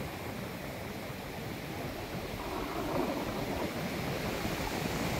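Sea waves washing onto the beach at Ganpatipule, a continuous broad roar of surf with wind buffeting the microphone, steady and moderately faint, no talk.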